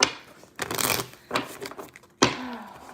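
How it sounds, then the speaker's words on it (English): A deck of cards is shuffled by hand: three quick riffling bursts with short pauses between them, close and crisp, with no talk. "I've just been shuffling this deck"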